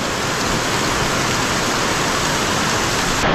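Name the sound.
heavy rain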